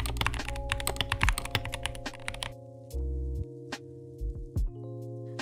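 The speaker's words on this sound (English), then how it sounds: "I chose a gamer optical brown switches for this keyboard" Steady, rapid typing on a mechanical keyboard with optical brown switches, crisp clacking keystrokes close up, easing into slower scattered presses over a constant low hum.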